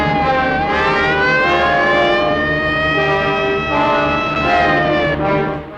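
A loud wailing siren of a 1961 Bellevue Hospital ambulance in New York rises and falls steadily, close and continuous over a low background rumble.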